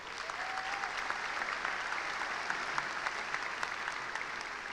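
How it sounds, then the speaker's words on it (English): Graduates applauding themselves at a community college spring graduation ceremony, a sustained, moderately quiet crackle of many hands clapping with occasional sharper claps standing out, heard from some distance. "Give yourselves a round of applause."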